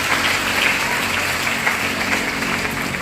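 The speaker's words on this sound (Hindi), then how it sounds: "एक बार जोगेंद्र संधू के नाम से जोरदार तालियां बजाएंगे" Applause from an audience at a Haryanvi radio artists' gathering honoring Jogendra Sandhu, a steady dense wash of clapping filling the whole moment with no voices over it.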